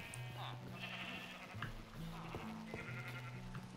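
Sheep in the Minecraft video game bleat repeatedly in short, overlapping calls over a steady background hum, close and fairly loud, with no voices talking.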